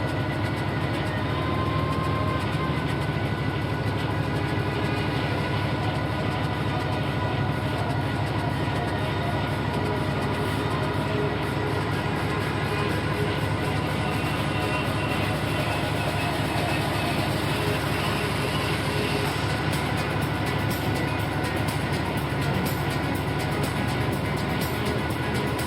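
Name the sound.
Class 66 diesel locomotive accelerating, Train Sim World 5 video game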